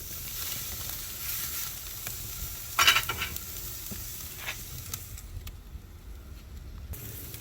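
Steak sizzling over the fire on a Kamado Joe Big Joe charcoal grill, a steady crackling hiss with a sharp pop or clank near the middle, then quieter toward the end.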